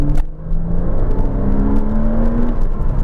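A Porsche Cayman S with a 3.4-litre flat-six engine, heard close and loud as a deep steady rumble with a rising whirring tone that climbs, then dips slightly, as the revs change.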